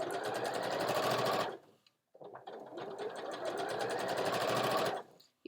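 Sewing machine stitching binding onto an ironing board cover, running in two long bursts of fast, steady mechanical chatter close up, split by a short pause.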